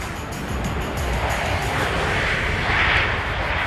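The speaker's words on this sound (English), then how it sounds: "Here's Delta 10 getting airborne for London." A Delta heavy jet airliner takes off from Minneapolis–St. Paul airport on a flight to London. Its engines make a steady, broad roar that swells slightly near the end, with no voices.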